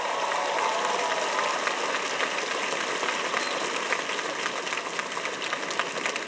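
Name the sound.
round of applause at commencement ceremony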